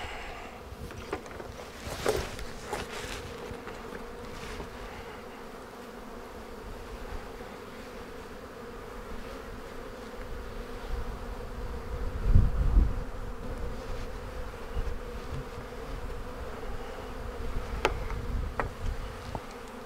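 Honeybees swarm around a hive in a steady, close droning hum with a few soft knocks and bumps scattered through, and no one talking.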